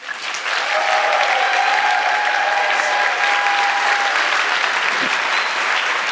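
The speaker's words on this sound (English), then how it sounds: "Please clap right now." Audience applause at a live debate event: a dense, steady burst of many hands clapping together that fills the room evenly and holds at full strength for about six seconds.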